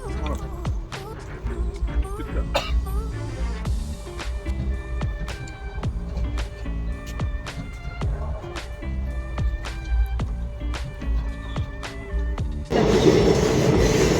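Rhythmic clicking of wheels on rail joints and a low rumble carry through the interior of an intercity train, heard from inside the carriage, getting louder and noisier toward the end.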